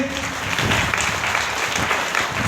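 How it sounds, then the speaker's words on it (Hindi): A hall audience claps at a DXN business gathering, a steady wash of many hands applauding throughout. "उनके लिए भी जोरदार ताली होनी चाहिए"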